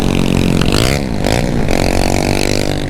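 A 250cc ZAMCO motorcycle rides at night on a Jamaican road, its engine droning loud and close throughout with rising and falling revs, under steady wind noise.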